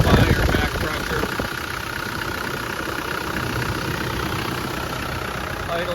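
A 1998 Land Rover Defender 130 with a 300Tdi diesel engine idles steadily, a constant close rumble with a brief louder moment at the start, and a voice talks over part of it.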